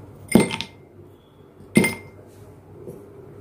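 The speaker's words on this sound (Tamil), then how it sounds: "ஐஸ் கேக் போடுறேன்." Ice cubes dropped into a glass of homemade gooseberry juice, two distinct bright clinks about a second and a half apart, each ringing briefly before a quiet tail, with no talk.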